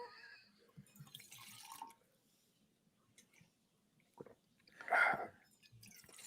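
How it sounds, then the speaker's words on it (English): Liquor is poured into shot glasses, a short gurgling splash near the end after quieter dripping and clinking sounds, heard fairly close. "Are you actually pouring shots?"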